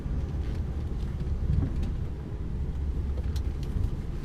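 A truck pulls up and manoeuvres, a steady low engine rumble and road noise heard from inside the cab, even and continuous, with no talking.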